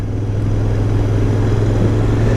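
Royal Enfield Interceptor 650 motorcycle idling, its engine and exhaust giving a steady, smooth, muted low rumble close by, unbroken and without talk.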